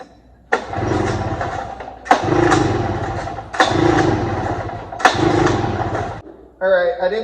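A Ski Whiz snowmobile engine flooded with primer cranks in four long rattling bursts, each cutting off with a short gap between, close and loud, followed by a brief burst of a different sound at the end.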